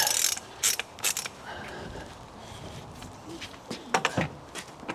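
A torque gun tightens pins on a JCB 3CX SiteMaster backhoe on site, giving bursts of ratcheting mechanical clatter in several short runs, close and fairly loud, with quiet pauses between.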